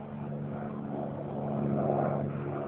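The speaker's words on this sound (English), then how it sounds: "I get this helicopter all the time flying over my flat." A steady low droning rotor and engine hum passes overhead, swelling slightly louder midway and then holding.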